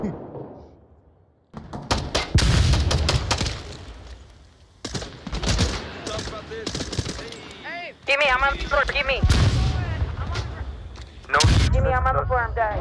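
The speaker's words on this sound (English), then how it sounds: "All I can hear is gunfire and I'm dead." Rapid bursts of gunfire ring out in the VR shooter Onward during a police-themed match, coming in loud clusters separated by brief lulls while players talk and shout over the shooting.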